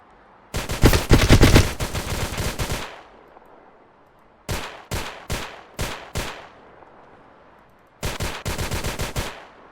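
Automatic gunfire in the mobile game GTA Vice Online: a long loud burst, then four short separate bursts, then another sustained burst, with near silence between.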